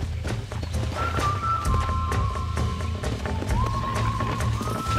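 Horse hooves clip-clop at a steady trot in the Western video game Red Dead Redemption, close and fairly loud, with a faint whinny and soft background music underneath.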